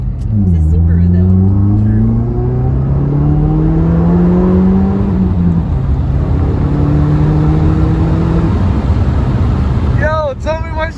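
A 2015+ Subaru WRX with all-wheel drive and a Remark Boso axleback exhaust accelerates hard. Its loud, close engine note climbs steadily in pitch, dips at a shift, then climbs again, ending in a short burst of crackle.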